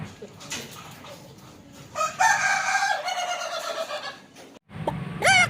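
A toy rooster gives a loud, close electronic cock-a-doodle-doo crow lasting a couple of seconds, followed by a brief pause and a second, shorter crowing burst at the end.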